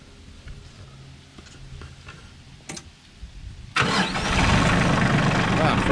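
A New Holland TC30 tractor, fuel filter just drained after an oil change, catches on the first try after quiet ticking and clicks, then rumbles into a loud, close, steady idle.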